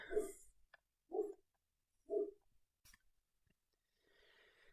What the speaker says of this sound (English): Yeah, still don't know why she was barking.